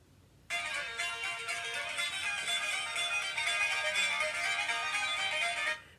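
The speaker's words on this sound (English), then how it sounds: "He plays a jaunty song on his guitar." A jaunty Celtic tune is played on guitar, a steady run of bright plucked notes with a ringing tone that continues for several seconds before cutting off, with no voices.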